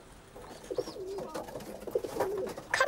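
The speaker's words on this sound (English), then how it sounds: "there's some Grandad's pigeons" Pigeons coo in a backyard pigeon loft, giving several soft, throaty coos in uneven succession, close and fairly quiet over a light background.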